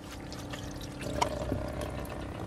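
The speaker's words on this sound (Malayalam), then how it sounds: "ആ വാട്ടർ ക്യാനിൻ്റെ മുകളിൽ വെക്കാനുള്ളൊരു വാട്ടർ പമ്പാണ്" Water dispensed through a manual pump fitted on top of a drinking-water can inside a van, a soft steady trickle and pour lasting throughout, close by and fairly quiet.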